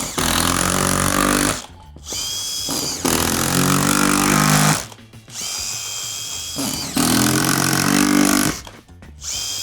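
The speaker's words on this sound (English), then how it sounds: "we've got the Project Pro here with the collated screws in here, and we're going through our chipboard" A Project Pro collated screwdriver drives screws into chipboard in three long, loud bursts of high motor whine, each broken by brief pauses.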